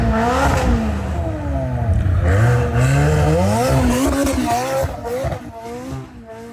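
A Ferrari F12 engine revs in snowy conditions, loud and close, with repeated rising and falling engine pitch sweeps as the car accelerates, while voices talk underneath.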